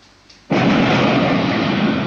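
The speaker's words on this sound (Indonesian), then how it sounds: "kita tambahkan ledakan" An explosion sound effect from an Android video editor starts with a sudden loud blast after a quiet moment, then a dense roaring rumble that fades slowly.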